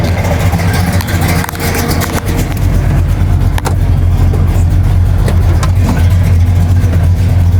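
An original, classic stick-shift car, stored in a garage for two years, runs steadily in a steady, loud low engine drone with faint revving swells throughout, close by.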